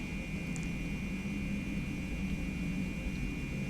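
A Boeing 717-200 jet engine runs in a flight simulator with one engine shut down, giving a steady, even drone with a constant high whine over a broad rushing roar and no talk.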